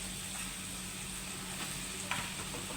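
Jackfruit vegetable seasoned with chili, salt and turmeric sizzles steadily as it is stir-fried in a pan with lentils, a continuous crackling fry with a small clink of stirring near the end.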